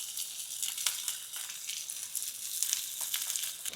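Small onions and green chilies stirred in a hot pan for a Jaffna-style prawn puttu masala: a close, steady sizzle with crackles and scraping from the stirring, no talk.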